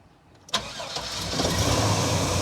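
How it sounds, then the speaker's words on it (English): A Chevrolet Astro or GMC Safari van engine with a lean condition cranks briefly, then catches and settles into a steady, close idle that rumbles on to the end. "Now let's try to start it."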